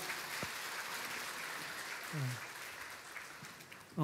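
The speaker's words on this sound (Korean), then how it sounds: "큰 박수로 환영 한번 해주겠습니다." Sustained applause from a congregation welcoming new members at a Sunday church service, a steady wash of clapping with a few faint voices mixed in.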